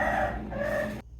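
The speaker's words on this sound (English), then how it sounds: "She's been crowing." A hen crows once, close by, in a short strained call of about a second that cuts off sharply into near silence.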